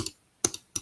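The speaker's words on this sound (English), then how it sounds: "This would be the clicking sound." Three short, sharp clicks come in a loose uneven rhythm, crisp and close, separated by near silence, with no talking.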